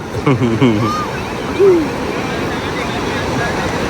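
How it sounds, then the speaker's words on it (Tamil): Waves at Tada beach in Goa wash in as a steady, moderate surf roar, while a voice speaks briefly at the start and again midway. "இது தடா பீச்சு, நம்ம கோவா பீச்சில் இருக்கோம். சவுண்டு கேட்குதா செல்லம்? Beach sound."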